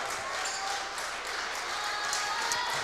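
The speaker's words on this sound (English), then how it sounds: "And you get that steady clapping from the fans, urging them on" Steady clapping from fans in a volleyball gym, a dense continuous wash of applause with a faint crowd murmur underneath and no clear voice on top.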